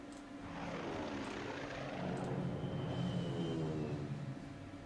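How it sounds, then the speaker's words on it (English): A medium bomber in the wartime strategy game Strategic Command drones by with a steady propeller engine rumble that swells and holds, fairly loud, alone without talk. "I can use the medium bomber to hit this mine."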